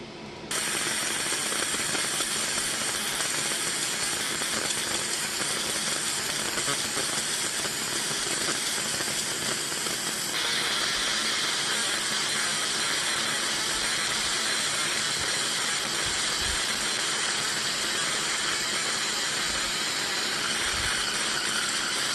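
Fiber laser marking powder-coated aluminum, a continuous bright buzzing hiss with a fast mechanical ticking running steadily and loudly throughout, shifting slightly partway through.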